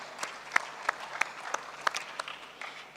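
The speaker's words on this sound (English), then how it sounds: "If you want to clap, clap well." A panel-session audience claps in a hall, a fairly sparse applause with a few sharp, distinct claps standing out over a softer patter, at moderate loudness and without voices on top.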